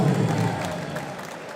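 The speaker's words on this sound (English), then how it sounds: "Keep that round of applause going as well, ladies and gentlemen." A crowd at Victoria Warehouse claps and cheers for a competition winner, a dense round of applause that gradually fades over a couple of seconds.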